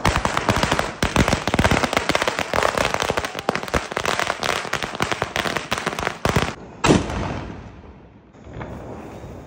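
Mini bullet firecrackers burst in a rapid, loud, close string of sharp cracks and pops, ending in a few bigger bangs before the noise fades.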